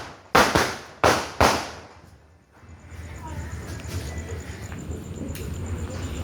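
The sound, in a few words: Diwali firework sky shot bursting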